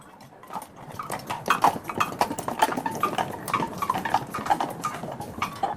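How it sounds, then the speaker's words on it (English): Horse hooves clip-clop at a steady trot as a carriage travels toward a manor in Essex, northeast of London, in 1893, with faint clinks and rattles of the vehicle mixed in, fairly close and continuous. "we took a carriage to Ashbourne Manor in Essex, some miles to the northeast of London"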